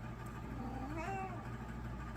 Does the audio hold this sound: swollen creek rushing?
no